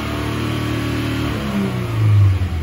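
A Subaru FA20 engine revs up from a steady idle drone while stationary, the pitch climbing toward about 2,500 RPM and swelling louder before easing off, heard close with no talking.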